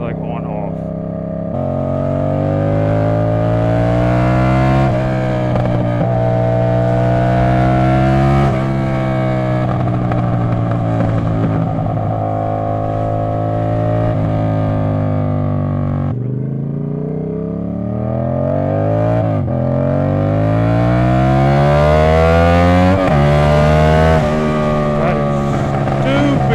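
A straight-piped 450 motorcycle engine revs loud and close in repeated surges, the pitch sweeping up and falling back several times, with an on-off throttle and occasional talk over it.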